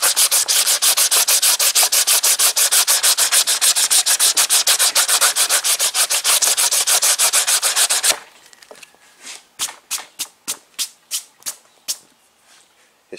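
Sanding block rubbed rapidly back and forth over guide coat on a custom fiberglass door panel, a dense run of quick scraping strokes that then slows to a dozen separate, spaced rubs, close and loud.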